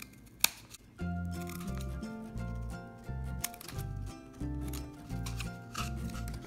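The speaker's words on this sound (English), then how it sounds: "So you're just going to cut slits, and I'm gonna go about a quarter of the way down my toilet paper tube" Scissors snip repeatedly through a cardboard toilet paper tube, making a quick run of close, crisp cuts that sound fairly quiet over faint background music.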